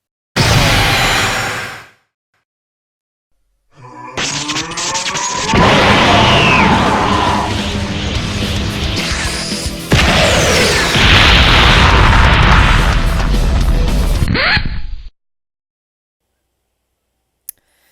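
Explosions in modded Minecraft 1.7.10 (Dragon Block C): a brief loud blast, a pause, then long stretches of heavy booming and crashing with whooshes, cutting off abruptly into silence.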